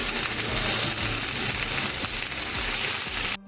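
Red peppers and garlic sauté in cold-pressed olive oil in a cast iron pan, giving a steady, close crackling sizzle that runs on its own and then cuts off sharply at the end.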